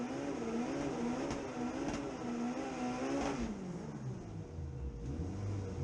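Onboard a front-wheel-drive drag race car at a Japanese car drag event: a loud, steady engine roar climbing in pitch through the gears, then settling lower near the end, continuous and close with no talk.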